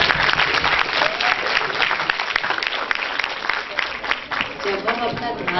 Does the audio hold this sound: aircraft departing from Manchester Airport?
no